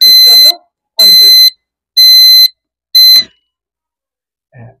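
A homemade power-cut alarm circuit sounds its buzzer in four loud, shrill beeps about a second apart, then falls silent before a faint brief sound at the end.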